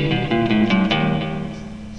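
Electric guitar played through a Fender Vibro Champ XD amp with reverb and delay on, a few sustained notes ringing out and trailing into a washy tail, alone and fairly loud.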